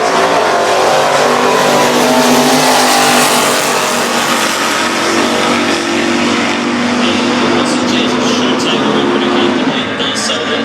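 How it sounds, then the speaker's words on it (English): A VX Commodore and a Nova launching side by side off the line at a drag racing event, loud, dense engine roar sustained throughout with rising revs, crowd and announcer noise blended underneath. "that was a good little launch too by both those cars"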